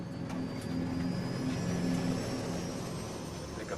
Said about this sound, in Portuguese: Acionar potência de decolagem.